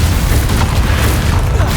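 Blasting spell explosion in a wizarding action video game, a loud, deep rumbling boom that rolls on with crackling debris noise for a couple of seconds, dominating everything.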